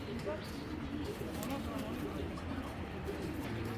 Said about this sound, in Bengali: দুইটা কবুতর আবার একসাথে দিই এখানে একটা আর্মি জোড়া দানব সাইজের